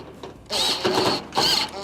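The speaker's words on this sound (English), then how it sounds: "line it up, and reinstall our second screw" A powered driver sinks a screw into a Whirlpool stove panel during repair. Two short, close, whirring bursts rise and fall with a brief pause between them.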